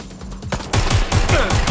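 Rapid gunfire bursts in the video game Watch Dogs: Legion, a string of loud repeated shots with a busy combat background, no voices heard in this stretch.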